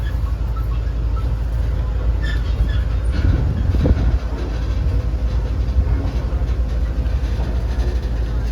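Shalimar Express train pulls out of Hyderabad railway station with a steady low rumble and clickety-clack of wheels, a faint squeal, and muffled voices in the background.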